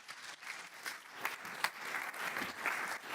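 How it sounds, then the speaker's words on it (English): Audience applause at a B2B SaaS sales and revenue leaders event, steady clapping from a large crowd rising and swelling over three seconds without a break. "Let's have a round of applause for Alice."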